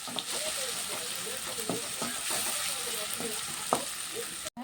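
Ginger garlic paste sautéing in a pan, a steady sizzling hiss broken by soft scraping strokes from stirring, close and moderately quiet, with a brief clatter near the end.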